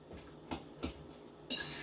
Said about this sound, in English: we're going to take our ingredients and we're going to fork them together here, going from the outside of the bowl to the inside